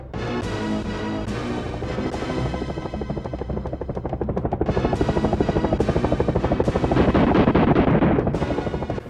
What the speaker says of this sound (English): you encounter the helicopter boss fight